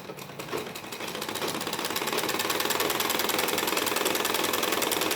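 Sewing machine stitching along a strip of cloth for a salwar design, a steady rapid mechanical clatter that builds up speed and then runs continuously, close and prominent.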